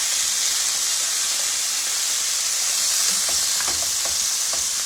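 Beef backstrap from the neck sizzles and spits steadily in a hot pan, a loud continuous frying hiss with small crackles and no talking.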